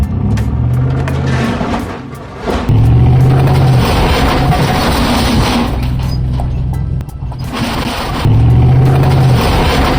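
A Chevrolet Suburban pulling forward with a trailer, its engine revving in repeated loud surges with brief dips between, heavy low rumble close by and no talk over it.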